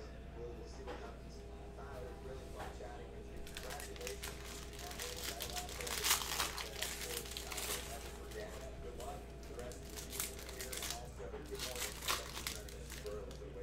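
A Panini Prizm basketball cello pack is ripped open and the cards handled, close crinkling and tearing plastic rustles in bursts throughout, with no speech over them.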